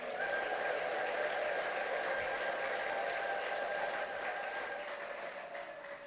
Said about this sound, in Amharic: እስቲ ለእግዚአብሔር እልልታ፣ ጭብጨባ።